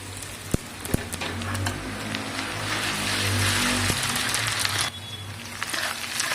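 Ginger garlic paste is tipped into a pan of browning onions and fries with a steady, close hiss. A few sharp clinks sound at the start, and the sizzle swells slightly midway before easing.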